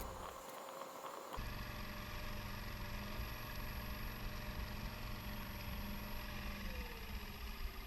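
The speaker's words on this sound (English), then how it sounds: "I had to leave the motor running as I pulled around and looked for fish" Outboard motor on a bass boat running steadily on calm water, a continuous engine drone with a low rumble that follows an abrupt start after a brief noisy opening second.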